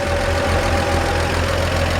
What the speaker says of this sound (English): But you can just hear the lifters in there. It's just nice and healthy.